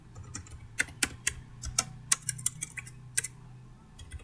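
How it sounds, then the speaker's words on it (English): Someone types a command on a computer keyboard: a quick, irregular run of crisp close key clicks with a low hum underneath, no speech. "Again we will type the command apm-v"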